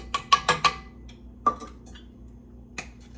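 Metal spoon clinking against a pot while stirring blueberry jam, a quick cluster of sharp taps followed by two isolated clinks, close and fairly quiet.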